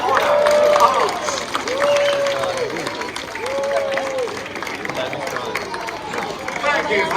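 A crowd applauds after a military drill display at Ballarat, steady clapping and murmuring spread across the clip, with a voice heard over it at times.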